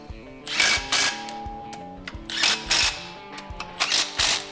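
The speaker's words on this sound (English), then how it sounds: "That's the double tap, that means it's tight." Ratchet wrench tightening a bolt on the motor mount of a 1968 Jeepster Commando, giving several close bursts of rapid metallic clicking with short pauses between strokes, with no talking.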